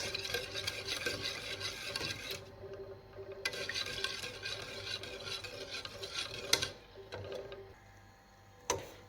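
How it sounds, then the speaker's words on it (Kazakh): Charlotte cream made with goat milk is stirred in a pot, soft continuous scraping and rubbing strokes heard up close and quiet, ending with a couple of sharp knocks of the utensil. "Мінекей осылай араластыра береміз"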